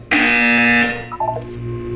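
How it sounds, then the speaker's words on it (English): A loud, harsh electronic buzzer from the video game Portal 2 blares steadily for about a second, then breaks into a few shorter tonal blips that fade into a low hum. "You will hear a buzzer. When you hear the buzzer, look up at the ceiling."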